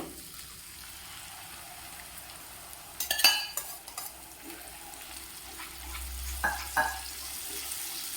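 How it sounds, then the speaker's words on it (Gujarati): Tomato puree added to a hot pan with onion, giving a soft sizzle and a few brief stirring scrapes and clatters amid low background hiss, no talking. "આપણે આ ટોમેટોની જે પ્યુરી તૈયાર કરેલી હતી તેને એડ કરવાની છે"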